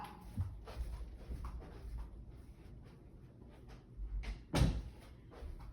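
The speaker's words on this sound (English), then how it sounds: "Those are my dogs. I gotta close the door." Dogs moving and whimpering indoors while a door is handled and shut, with scattered knocks and a sharper bang near the end over low household noise, with no talking.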